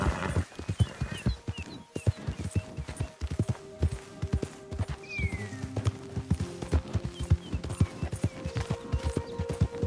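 Hooves of a horse in Red Dead Redemption clip-clop in a fast, uneven galloping rhythm, close and clear, with a brief whinny partway through and faint ambient background.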